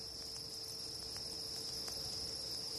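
Crickets chirp steadily at an insect farm, a faint continuous high trill with a few soft ticks, no voices.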